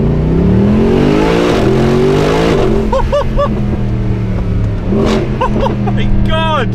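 A Mercedes engine revs hard in several rising and falling surges near an exhaust testing wall, with loud, close exhaust roar and crackle between pulls.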